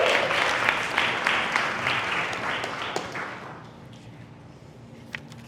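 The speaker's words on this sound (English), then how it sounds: "Another round of applause for him, please." Audience applause at a live business seminar in Toronto, loud, dense clapping from a crowd that gradually fades out over about three seconds, leaving quiet room noise and a stray tap.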